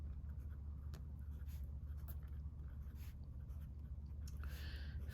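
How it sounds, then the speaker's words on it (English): Pen writing in a monthly budget planner, faint scratchy strokes over a steady low hum in a quiet room, with no talk. "Write this down."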